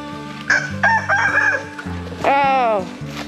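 Roosters crow close by on a homestead, two loud overlapping cock-a-doodle-doo calls in quick succession with hens clucking underneath.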